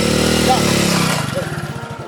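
A motorcycle engine runs under overlapping voices, a steady drone that breaks into a pulsing, sputtering idle toward the end.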